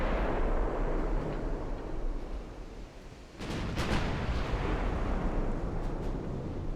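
Heavy naval guns from a dreadnought fire in a video game of an Italy versus Austria-Hungary sea battle, deep booming rumbles over a constant low roar, with a sharper cluster of blasts midway.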